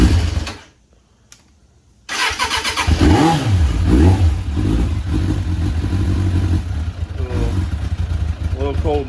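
A 1998 Suzuki GSX750F Katana motorcycle's carbureted engine cranks to life after a brief silence, then idles and revs with rising and falling pitch, loud and close throughout.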